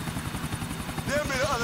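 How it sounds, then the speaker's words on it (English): In-game Grand Theft Auto IV audio of a helicopter being chased, its rotor thudding in a fast steady rhythm beneath the drone of a vehicle engine and game sounds, with a brief rising whine near the end. "following the chopper"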